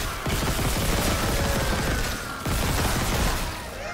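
Sustained rapid gunfire in the Dead Space Remake video game, a loud continuous rattling burst that briefly cuts out and resumes.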